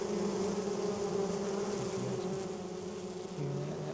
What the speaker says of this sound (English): That box is buzzing.